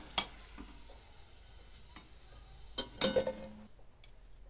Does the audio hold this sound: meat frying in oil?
yes